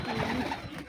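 White pigeons on a small farm coo in a low, steady murmur, close and fairly loud throughout the short moment.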